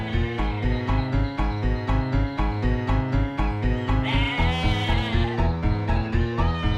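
Cartoon sheep bleat again and again in a steady, rhythmic pattern, loud and close, with no talking.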